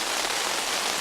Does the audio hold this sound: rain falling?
yes